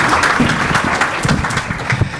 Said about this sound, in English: So a round of applause to Dr. Ong.